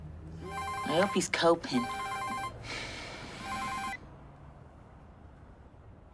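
A telephone rings in a domestic drama scene, with a repeating electronic trill in several bursts, loud at first and then softer, as a person speaks over the start of it before quiet room tone follows.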